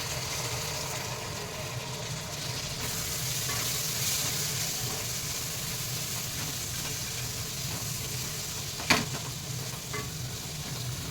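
Tomatoes dropped into frying masala for South Indian sambhar, a steady close sizzle with stirring scrapes throughout and one sharp clatter near the end.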